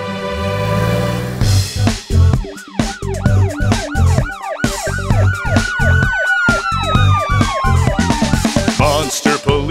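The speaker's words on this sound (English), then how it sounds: "Monster police car, monster police car." Cartoon police car siren wailing in rising and falling sweeps over a bouncy children's music backing, loud and continuous throughout with no talk.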